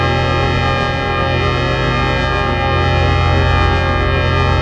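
Dense industrial drone music hums continuously with thick, sustained layered tones and washed-out echo, loud and unchanging without any voices.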